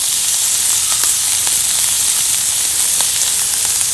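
Steady, loud sizzling of bacon frying in a pan, a continuous crackling hiss with small pops scattered throughout and no voices.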